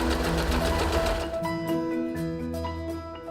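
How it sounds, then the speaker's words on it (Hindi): An Usha Janome Wonder Stitch sewing machine running steadily with its pattern selector set to F, a loud, close, continuous mechanical whir that changes slightly partway through, with no talking. "आखिर में पैटर्न सिलेक्टर को F पर रखें और सिलाई शुरू करें।"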